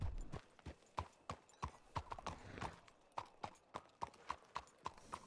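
A horse's hooves clip-clop in a steady, even rhythm of sharp, distinct strikes, fairly close and clear, with no talking over them.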